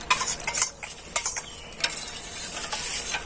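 A coffee and sugar mixture is stirred into melted soap base, giving a run of wet scraping and clinking strokes, close and fairly steady, with no talking.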